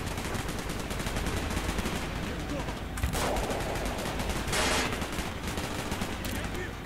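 Rapid automatic gunfire from Call of Duty: Black Ops on PC, dense crackling bursts running almost continuously with two sharper louder volleys, set against a busy combat soundscape.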